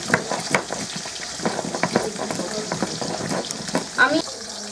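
Rohu fish pieces fry in hot oil with a steady, close sizzle and hiss, broken by scattered crackles and pops, with a few faint clinks and a soft voice-like murmur near the end.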